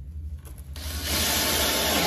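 Power drill driving a screw into a wooden racing pigeon nest box, a short, loud grinding whir that starts abruptly and holds steady, heard close and alone.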